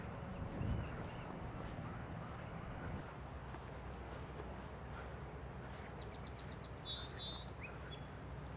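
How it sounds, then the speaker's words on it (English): Song sparrow singing from the woods, short bright chirps and trills that sound faint and distant over steady wind and low rumbling background noise, with no voices. "Song sparrow's still there, just singing away."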